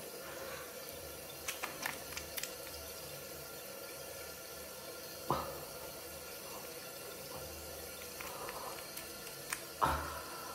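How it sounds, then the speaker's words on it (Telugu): Water splashed onto the face at a sink while cleansing oil is emulsified: a steady background of running water with a few brief, close splashes, no voices. "జస్ట్ ఇట్లా వాటర్ కొద్దిగా తీసుకొని ఇదంతా ఎమల్సిఫై చేస్తా."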